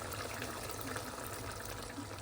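Water poured gradually into a pot of chicken tamarind soup, a continuous soft gushing trickle, steady and close throughout.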